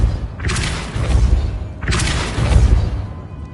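Two heavy booming impacts of the Repulsor spell in Hogwarts Legacy, each a forceful thud with a crackling burst, about a second and a half apart over a low rumbling game backdrop.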